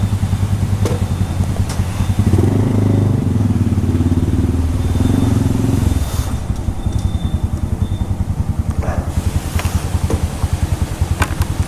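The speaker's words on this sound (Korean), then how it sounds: "아, 시동 켜놓고 갈게요." A car engine, started and left running in below-freezing cold, throbs in a close rhythmic idle and swells into a louder, heavier run for a few seconds before settling back down.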